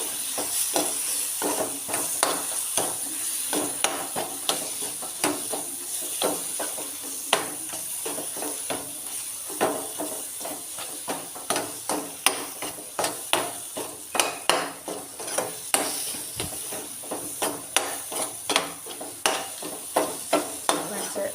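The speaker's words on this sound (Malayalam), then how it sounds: "ഈ പൊടികളെ പച്ച മണം മാറുന്നത് വരെ ഇളക്കി കൊടുക്കാം" Spice powders stirred as they fry in a pan for fish curry, a steady sizzle with rapid scraping clicks of a spoon against the pan, close and continuous, with no speech heard.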